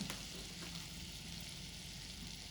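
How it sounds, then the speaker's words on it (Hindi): Butter melting in a pan on the stove gives a faint, steady sizzle with a soft crackle throughout, unbroken and even. "अब ये बटर हमारा मेल्ट हो रहा है"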